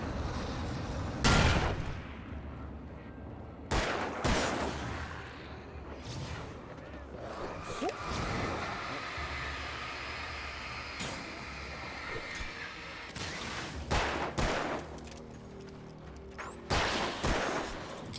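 Bursts of gunfire from the video game Alan Wake, several loud sharp volleys spaced through the clip with a rumbling, echoing tail between them.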